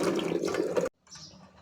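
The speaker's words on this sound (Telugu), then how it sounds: "ఇలా వేసిన అండి, నీళ్ళు వడగట్టు" Cooking water drained off boiled kabuli chickpeas, a brief close splashing pour that stops abruptly, followed by a faint trickle.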